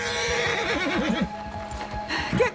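A horse in Red Dead Redemption 2 gives a loud, wavering whinny in the middle, with a shorter snort-like neigh near the end, over steady game ambience and faint hoof clatter.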